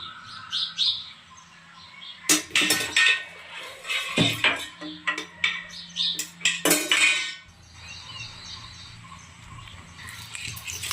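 A metal kadai pan clanks and clatters as it is set on a stove and oil is added for tempering, several sharp knocks close by, with birds chirping faintly in the background.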